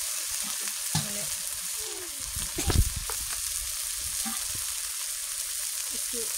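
Masala paste with chilli powder and green chilli sizzling steadily in a pan on a gas stove, close and continuous, with a few stirring clatters and one louder scrape near the middle.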